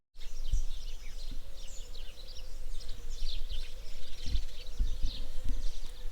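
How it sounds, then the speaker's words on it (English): Many birds chirp and trill in a steady, busy chorus with a low hum and occasional soft thumps underneath. "one thing that we've noticed is like the birds. Like, I don't know if you can hear them"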